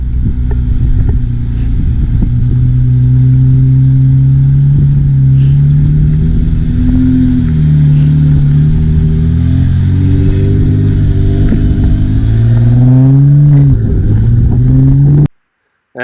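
A Jeep JLU Rubicon engine revving loudly off-road, close and sustained with rising and falling pitch as the throttle opens and eases, then cutting off abruptly at the end; no talk.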